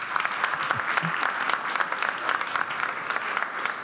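Steady audience applause in a comedy club during a stand-up special, a dense continuous patter of many hands sustained for several seconds with little variation.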